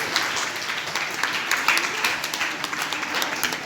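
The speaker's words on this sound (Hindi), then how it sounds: "ताली नहीं बजी, दोबारा बजाओ।" Schoolchildren at a girls' senior secondary school in Gurugram break into a dense, steady patter of group hand clapping that fills the whole stretch, with faint voices mixed underneath.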